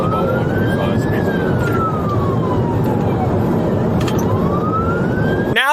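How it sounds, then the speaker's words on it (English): A police siren slowly wailing up and down over a loud rumble of road and engine noise, with a faster yelp starting at the end. "Now the sirens are on."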